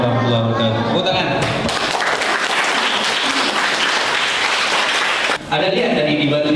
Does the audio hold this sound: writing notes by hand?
no